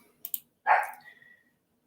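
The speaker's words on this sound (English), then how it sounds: "Oh, Mr. Willie is barking." A Yorkie named Mr. Willie gives a single short, fairly faint bark indoors, preceded by a couple of light clicks.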